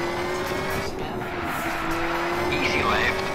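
Rally car in a racing video game, engine roaring steadily with tire squeal and skidding noise throughout, loud and continuous under excited voices.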